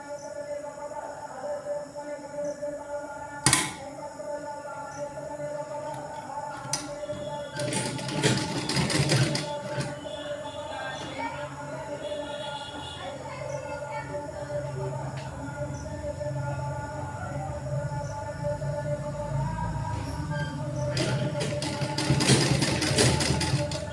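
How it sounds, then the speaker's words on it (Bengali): Sewing machine stitching the round neckline of a churidar, its steady mechanical whir running continuously in bursts with brief louder clatters, close and moderately loud. "এরপরে আমি এগুলো এভাবে ভিতরে ঢুকিয়ে এটা সেলাই করে নেব।"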